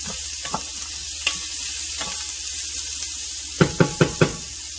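Chopped vegetables sizzle steadily in a hot pan for tandoori spiced chicken, a soft continuous frying hiss broken by a few sharp utensil knocks, with a quick cluster of taps near the end and no talking.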